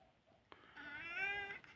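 A cat named B1 lets out one drawn-out, rising and falling meow of about a second, close and clear after a soft click, in an otherwise quiet indoor space.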